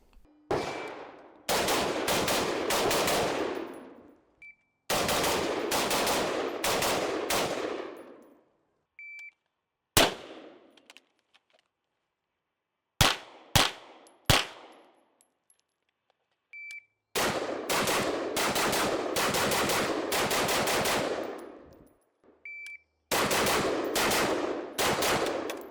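A Beretta ARX100 rifle fires in sharp, loud bursts of rapid shots at an outdoor range, separated by silent gaps. Several single, isolated cracks fall between the longer strings of fire.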